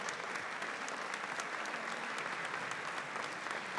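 Audience applause for comedian Matteo Cesca at an Italian comedy festival final, a steady, moderately distant wash of many hands clapping with no voices over it.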